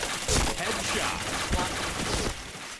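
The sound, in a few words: gunfire in a video game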